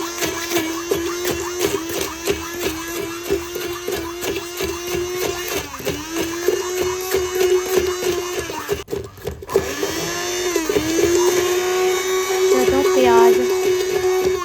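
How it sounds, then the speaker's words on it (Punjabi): A blender grinding tomatoes into a paste for an aloo matar curry runs loud and steady with a continuous motor whine that stops briefly near the middle and then starts again. The grinding sound takes up the whole stretch. "ਹੁਣ ਟਮਾਟਰਾਂ ਨੂੰ ਵੀ ਆਪਾਂ ਪਿਆਜ਼ਾਂ ਦੀ ਤਰ੍ਹਾਂ ਹੀ ਗ੍ਰਾਈਂਡ ਕਰ ਲੈਣਾ"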